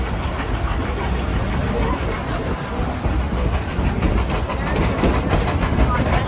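Steam locomotive engine number 70 rolls by with a steady rumbling roar and rhythmic clickety-clack of wheels on rail, close and continuous, while someone talks over it.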